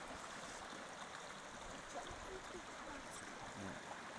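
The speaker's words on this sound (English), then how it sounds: "Babbling brook." Steady rushing and burbling of a babbling High Sierra mountain stream at a trail crossing in the Sierra Nevada, continuous broadband water noise close by, with faint voice traces now and then.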